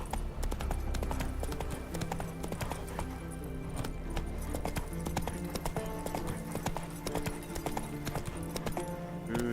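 Roach, the horse in The Witcher 3, gallops with a steady, rapid clip-clop of hooves over game music, continuous and close for the whole stretch.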